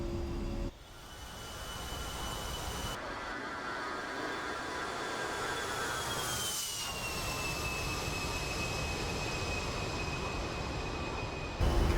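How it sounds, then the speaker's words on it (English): Simulated A-10C II jet engines spool up and roar steadily through a takeoff run in a flight simulator game, a loud continuous turbine whine with a rising tone and no talking. "We're in the A-10C II Tank Killer again."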